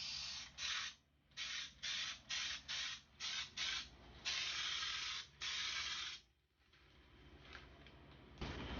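An electric spray gun fed by a compressor sprays truck bed coating in bursts, with several short hissing pulses followed by longer continuous sprays and brief pauses between them.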